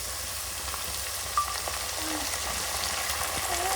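Curry leaves sizzling in hot oil for masala khichdi, cooked outdoors under a tree: a constant dense crackle with a small pop, steady and close throughout.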